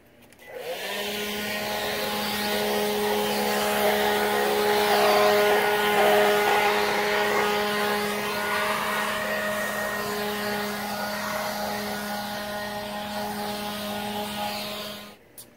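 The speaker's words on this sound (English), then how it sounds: "we're going to get all this bark out of the way, and we're going to use the blower for that" A battery-powered cordless leaf blower clears bark in a yard, spinning up from silence into a steady, loud whirring whine that holds for about fourteen seconds before winding down.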